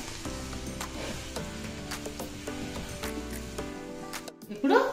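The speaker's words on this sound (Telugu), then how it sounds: "ఈ అల్లం వెల్లుల్లి పేస్ట్ వేసిన తర్వాత 1 నిమిషం సేపు మగ్గనిద్దాం." Ginger garlic paste sizzling in hot oil in a pan, a steady crackling fry with scattered pops, briefly dropping out before a louder stirring scrape at the end.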